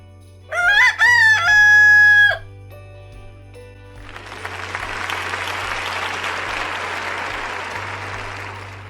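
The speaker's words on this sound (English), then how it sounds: "What sound does a rooster make?" A rooster gives one loud, close cock-a-doodle-doo of about two seconds. After a short quiet gap, applause swells and continues to the end.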